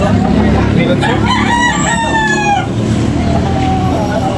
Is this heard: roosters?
yes